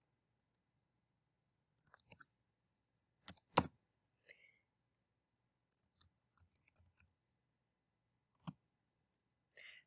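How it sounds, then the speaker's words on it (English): Sparse clicks from a computer keyboard, with short bursts of keystrokes separated by quiet gaps and a couple of louder taps near the middle, close and alone. "You won't be able to see what I'm doing with my keyboard"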